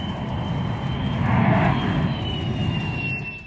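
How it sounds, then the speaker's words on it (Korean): Air force F-4E Phantom fighter jets landing one after another on a runway, heard up close from the grass beside it as a loud, continuous jet roar that swells toward the middle and holds, with no voices. "잠시 후 시야에 들어온 팬텀기들 차례차례 착륙합니다"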